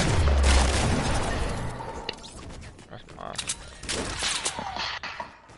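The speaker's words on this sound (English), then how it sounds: "Somebody else firing." Fortnite Battle Royale gunfire on PS4 Pro: a ragged volley of shots crackling in the first two seconds, then scattered sharper cracks later, with players talking over the fighting.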